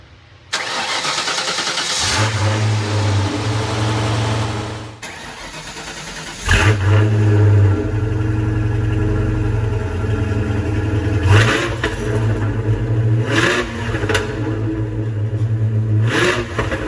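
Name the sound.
1995 Ford Mustang Cobra engine cold start and revving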